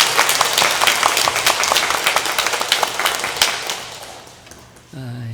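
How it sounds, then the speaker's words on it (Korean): Church congregation applauding during a Sunday worship service, a dense burst of clapping that fills most of the stretch before fading, with a voice starting up at the very end. "우리 하나님께 영광의 박수"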